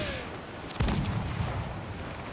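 Ship cannon fire in the Assassin's Creed IV Black Flag video game: a single sharp boom lands partway through and rumbles out beneath a wash of quieter battle noise.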